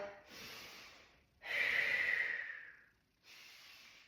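Breathing during squats: three close, airy breaths in a slow rhythm, with a louder middle exhale between softer inhales, alone without talk.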